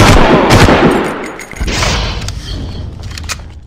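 Loud, close automatic gunfire from the video game Far Cry Classic: dense rapid shots merge into a roaring burst that eases off after the first second, followed by a scattered tail of further shots and mechanical clatter.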